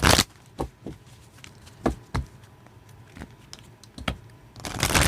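A deck of tarot cards is shuffled up close, giving scattered crisp flicks and papery riffles in short bursts separated by quiet gaps, with no one speaking.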